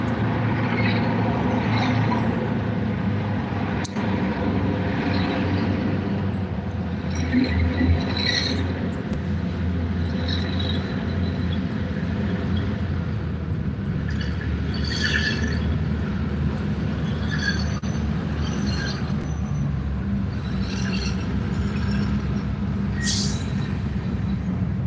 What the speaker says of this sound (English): Another train, folks